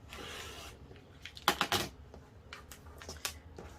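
A rotary cutter slices through quilting fabric against a ruler on a cutting mat, making several quick close scraping cuts and small shuffles and taps in a quiet room.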